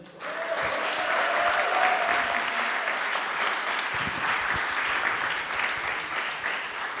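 Audience at a student demo day in Paris breaking into sustained applause, a dense wash of clapping that starts abruptly and holds steady for several seconds, with a brief voice early on.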